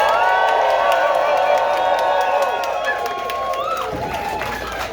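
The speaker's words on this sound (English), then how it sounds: "Let's cheer for them." A crowd at an election night gathering cheers and claps for house party hosts, a dense sustained roar of voices with whoops that stays loud throughout and eases slightly near the end.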